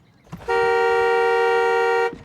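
One steady, close car horn blast from inside a parked car holds for about a second and a half with a clean, bright tone, starting and stopping abruptly in a quiet cabin.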